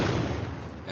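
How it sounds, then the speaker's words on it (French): An explosion sound effect from the Unreal Engine Starter Content audio set plays as a loud, dense rumbling blast that fills the moment and fades slightly toward the end, with no voices. "Explosion."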